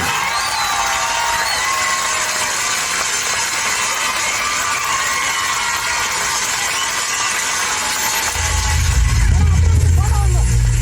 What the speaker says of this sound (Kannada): ಈ ಒಗ್ಗಟ್ಟಿಗೆ ಕಿಚ್ಚನ ಕಡೆಯಿಂದ ಬರಲಿ ಒಂದು ಜೋರಾದ ಚಪ್ಪಾಳೆ